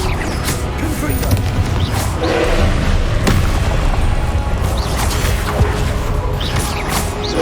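Confringo fire-blast spells exploding during a Hogwarts Legacy ancient magic trial battle, a dense run of booming blasts and crashes over constant rumble, with repeated sharp impacts throughout.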